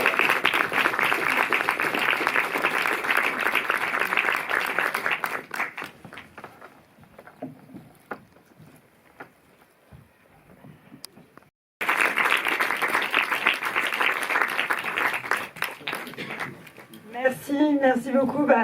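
A cinema audience after a film screening claps in two dense bursts separated by a quieter stretch with scattered sounds, and a voice talks toward the end.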